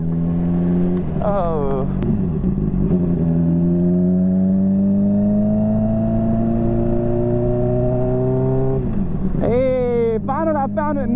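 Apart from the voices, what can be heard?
motorcycle being ridden through a neighborhood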